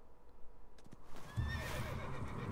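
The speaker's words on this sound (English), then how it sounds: "Oh, that was all I had to do was call my horse?" A horse in the video game Assassin's Creed Origins gives a loud, close whinny, preceded by a few faint hoof clops in a quiet desert setting.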